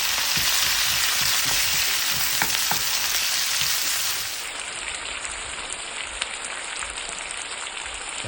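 Ginger and tomato fry in a pan for a Filipino sour tamarind chicken dish, giving a loud, steady hiss of sizzling oil that eases slightly partway through, with faint crackles and no talking.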